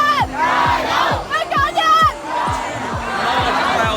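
A large crowd of protesters gathers in a Hong Kong street, with chanting voices rising and falling over a regular pulsing beat, loud and close throughout.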